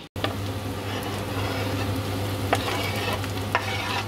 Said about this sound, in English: Cut onions and it's frying now.